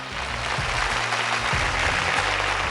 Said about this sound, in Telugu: Okay claps.